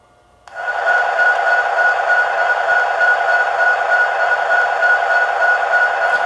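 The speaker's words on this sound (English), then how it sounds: "now I'm going to apply track power so you can hear it start up" A Bachmann SD70ACe model locomotive in Savannah and Atlanta livery starts up on track power: a sudden onset, then a steady, loud, even electronic sound-unit hum that holds without a break.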